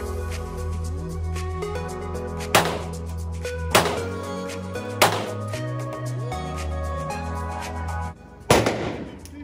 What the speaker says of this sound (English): It's the M3 rifle. Bust rounds out here.